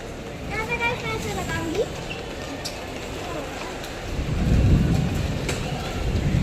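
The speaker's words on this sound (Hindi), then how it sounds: "बारिश हो रही है थोड़ी थोड़ी" Light rain falls steadily outdoors, a soft continuous hiss that thickens toward the end, with faint children's voices and movement in the background.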